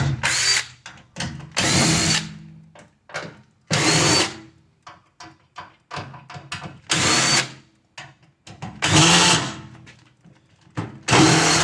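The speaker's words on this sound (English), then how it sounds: "My drill is going bad." A failing power drill whirs in repeated bursts, loud and close, with short pauses and clattering handling noises between runs, while a scrap microwave transformer is taken apart.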